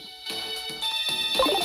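A ringtone from a Pokemon HeartGold game plays in repeated electronic bursts, a bright steady tone with short gaps between rings, fairly loud and alone.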